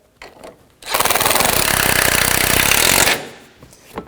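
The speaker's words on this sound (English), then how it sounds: "So 13mm socket, and snug up your upper strut mounts." Impact wrench or power ratchet with a 13mm socket snugging the upper strut mount nuts on a 2011-2018 Volvo S60, one loud sustained burst of rapid hammering of about two seconds, close up, with no talking.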